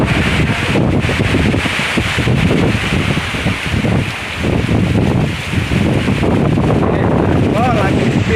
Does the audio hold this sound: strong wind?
yes